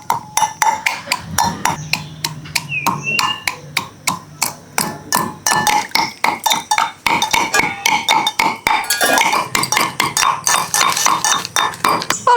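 Garlic, black pepper and spices pounded into a paste for prawn pakoras: loud, close, rapid taps and clinks in an uneven but steady rhythm.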